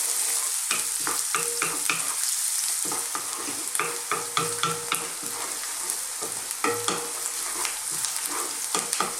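Sliced onions fry over fairly lively high heat for an Indian minced beef and potato curry, a steady loud sizzle broken by repeated scraping stirs from a spoon in the pan.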